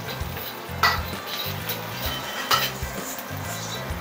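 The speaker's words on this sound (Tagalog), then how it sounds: "Gisa na natin ang pork." Pork sautéing in a pan for ginataang laing, a steady low sizzle under the scrape and clink of a utensil stirring against the metal, with a couple of sharper knocks.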